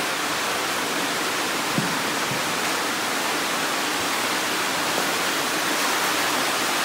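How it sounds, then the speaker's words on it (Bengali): Water rushing through Arwah Cave in Meghalaya, a loud, steady, broadband roar that continues without a break and with no voices. "এই হুড় শব্দে জল যাচ্ছে ভেতর দিয়ে।"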